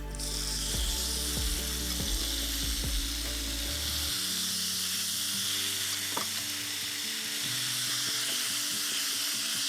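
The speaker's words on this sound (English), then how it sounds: "If you get that sizzle, you're ready to go." Steady, loud sizzling of chicken frying in a hot pan for mee goreng, continuous crackle throughout with a few scraping stirs early on.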